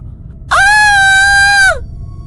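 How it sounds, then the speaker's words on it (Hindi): A woman's loud, sustained, high-pitched scream, used as a horror-story sound effect. It rises sharply, holds steady for about a second, then trails off, alone over a low background rumble. "वो जोर से चिल्लाई"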